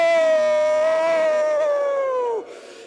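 A loud, sustained voiced howl rises from the crowd at a live stage show, imitating a wolf and holding one long, steady note that sags slightly in pitch before breaking off.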